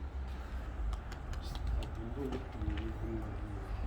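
Pigeons coo softly at a coop, a few rolling calls under a steady background rumble and faint clicking.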